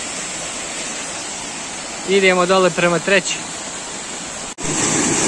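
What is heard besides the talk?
Ilomski waterfalls cascading over rocks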